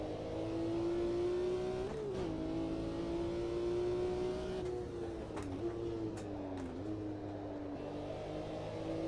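A race car engine in the Automobilista 2 racing game at Watkins Glen hums at high, steady revs, rising and dipping slightly with throttle changes and occasional clicks, loud and continuous with no talk.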